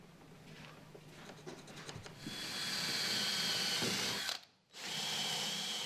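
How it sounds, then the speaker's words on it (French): Power drill boring bolt holes through a vertical panel saw frame, a steady whirring drone that swells and holds, cuts out briefly near the end, then resumes close by. "Percez vos points et placez vos boulons."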